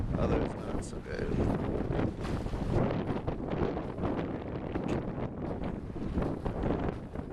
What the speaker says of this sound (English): We're experiencing probably 30 to 40 miles an hour, maybe 50-mile-an-hour gusts at times.